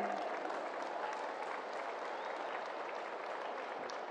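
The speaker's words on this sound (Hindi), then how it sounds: "आइए जोरदार तालियों के साथ स्वागत करते हैं" A large audience at the GCMMF golden jubilee ceremony in Ahmedabad applauds to welcome Narendra Modi, the clapping even, broad and somewhat distant, continuing throughout.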